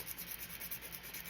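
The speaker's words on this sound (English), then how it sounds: "And it's just an emery board file." An emery board file rubbing back and forth across a burned spot on a small vintage stove craft kit piece, quick scratchy strokes repeating close up with no talking.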